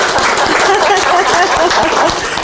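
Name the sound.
audience applause for a speaker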